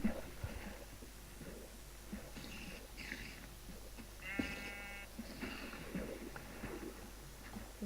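Sheep bleats from the Minecraft video game, a few short bleats scattered across several seconds over quiet in-game background sound, with no talking.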